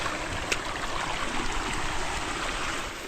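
Strong water rushing into a farm field, a steady, dense, close wash of flowing water that holds even and unbroken throughout without pause.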